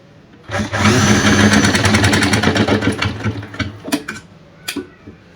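A sewing machine stitches a coat collar at the neck, running loud and close in a fast, steady burst for about three seconds, then slowing into a few short, stuttering stitches before stopping.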